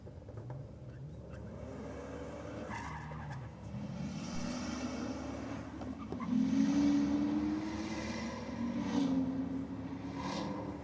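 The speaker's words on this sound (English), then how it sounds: "The Supra in the Aeroflow lane up against the Ford in the Rocket lane" A Toyota Supra and a Ford on a drag strip, engines droning at moderate distance, then climbing in pitch through rising revving pulls with brief gear-change dips.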